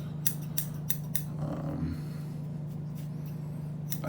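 Several quick, crisp snips of small scissors close up, spaced in a loose rhythm, over a steady low hum with no talking.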